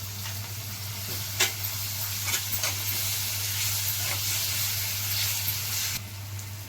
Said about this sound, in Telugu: 1 స్పూన్ అల్లం వెల్లుల్లి పేస్ట్ పచ్చివాసన పోయే వరకు వేయించుకోవాలి